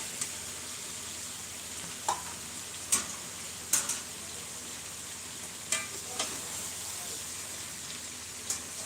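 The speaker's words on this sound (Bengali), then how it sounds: "আলুটা দিয়ে দেবো আমি আগেই ভেজে রেখেছিলাম আলুটা" Fried potatoes tumble into a duck curry cooking in a pan, giving a steady low sizzle with a few sharp clicks and scrapes from stirring.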